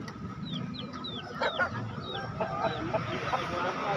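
Several Burmese crossbreed chickens give short, rising clucks again and again at a busy weekly chicken market in Daya, Makassar, close and clear over market bustle and nearby conversation.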